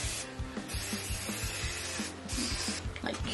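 Hairspray sprayed onto hair in several short hissing bursts, close and fairly soft, with small rubbing and handling noises between the sprays.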